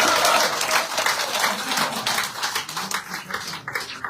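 An audience at a political gathering in Jammu, where a former Congress leader is joining the BJP, applauds loudly for several seconds, the clapping steady and dense before thinning slightly at the end.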